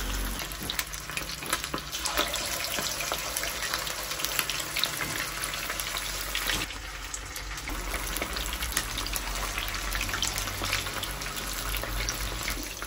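Fried chicken pieces sizzle in hot cooking oil, a steady crackling hiss with scattered pops that runs on throughout at moderate level, with no voices.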